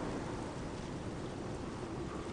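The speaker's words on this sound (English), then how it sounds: "we got a normal storm now" Steady rain pours through a thunderstorm in the Fallout 4 wasteland, a dense unbroken hiss with a low rumbling undertone, constant and enveloping, with no voices.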